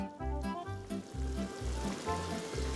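Amatriciana sauce with cayenne chilies and pepper sizzles steadily in a pan as it is stirred, a close continuous frying hiss with rhythmic scraping strokes about every half second and no talking.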